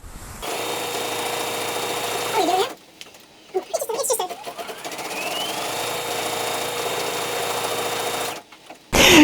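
An embroidery machine stitching out embroidered buttons runs in two steady mechanical bursts, rapid needle rattling and motor hum, separated by a short quiet stretch with handling noises.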